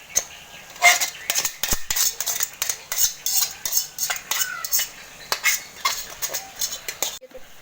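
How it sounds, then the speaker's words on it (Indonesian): Two metal spoons stir oil through a bowl of ingredients while preparing chicken noodles (mie ayam), giving rapid, uneven clinks and scrapes that repeat close up throughout with no talk. "setelah minyak masuk, kita pakai 2 sendok untuk mengaduk teman-teman seperti ini."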